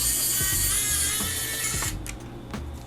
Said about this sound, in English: All right, so we've got 4 screws. I'm assuming we take these 4 out.